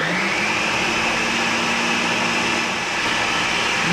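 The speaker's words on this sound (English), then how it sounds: "It's a pretty good blender. It's a Ninja one." A Ninja kitchen blender running on its mix setting gives a loud, continuous motor whir with a steady high whine, close and unbroken, with no voices.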